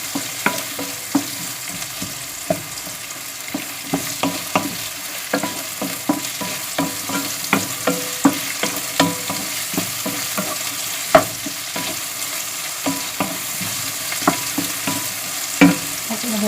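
Shrimp fry in butter, a constant close sizzle punctuated by regular clacks and scrapes of a utensil stirring against the pan, loud and alone without voices.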